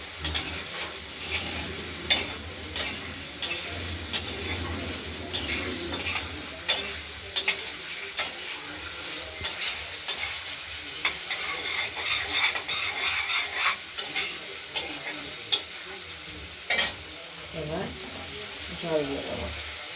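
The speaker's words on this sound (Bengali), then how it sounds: "তেল বেরিয়ে গেছে কষাতে কষাতে" A spice paste of cumin, ginger, chili and tomato for pabda fish curry sizzles in oil as a spatula scrapes and knocks against the pan in repeated, irregular strokes, with faint voices in the background.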